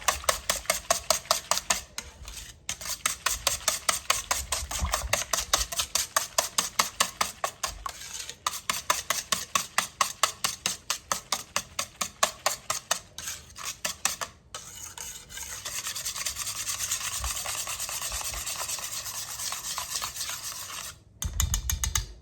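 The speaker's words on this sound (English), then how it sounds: "But we're just going to whisk it." Rapid, steady clicking strokes of a whisk beating bread pudding mixture by hand in a bowl, going in fast rhythmic bursts with brief pauses, then a smoother swirling stretch, close and clear without talking.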